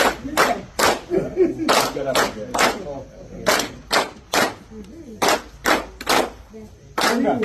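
Dinner guests honoring the African Development Bank president clap in sharp, loud, rhythmic bursts, a patterned group clap of quick strokes separated by short pauses, close and crisp.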